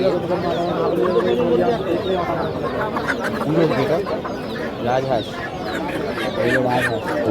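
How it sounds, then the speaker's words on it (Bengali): Local desi chickens cluck and squawk nearby at the busy Gopalnagar Mede Haat animal and bird market. Their calls come in short, repeated bursts under a steady murmur of people talking. "মুরগি আছে দেশি মুরগি দামও অনেক কম"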